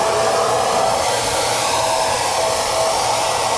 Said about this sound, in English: You guys see how well that thing sprays?